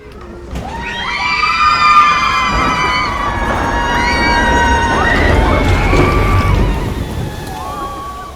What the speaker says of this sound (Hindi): उसी वक्त एक बार फिर से अंदर से वही चीखने चिल्लाने की आवाज़ें आने लगी